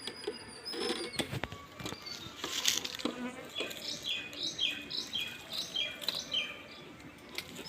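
Honeybees swarming over an opened beehive super in an outdoor beekeeping setting, a steady buzzing hum with scattered bird chirps around it, moderately close and fairly quiet.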